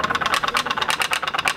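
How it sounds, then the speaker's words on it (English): A rapid, steady putt-putt of a small homemade steam engine made from recycled aluminum on a toy pop-pop boat, close and fairly loud, with regular rattling pulses and no talking. "These middle school students are testing out their putt putt boats."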